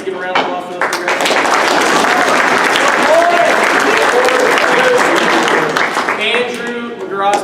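Sustained round of applause from a crowd at a wrestling banquet, dense and loud clapping filling the room for several seconds, with voices and a few whoops mixed in and some chatter near the end.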